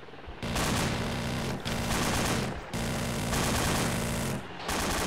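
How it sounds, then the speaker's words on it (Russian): A PKM machine gun in the video game ArmA 2 fires long sustained bursts in several strings with short pauses between them. The fire is loud and close, with no talk. "Короче, позади нас где-то ПКМ работает."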